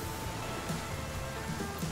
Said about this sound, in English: Are you kidding me? It's still raining?